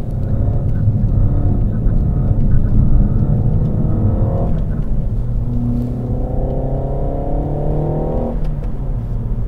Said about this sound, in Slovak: Megane RS znie ohromne dobre na sani.